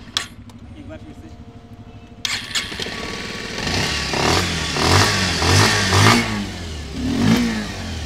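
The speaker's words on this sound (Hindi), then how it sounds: "इंजन की आवाज़ सुन लो" Bajaj Pulsar 150 motorcycle, 2024 standard model, is started with a brief cranking, catches and then revs several times, close and loud, after an opening stretch of quieter background.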